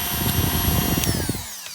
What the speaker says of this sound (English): I've got a little like grinder wheel. I'm just going around the edges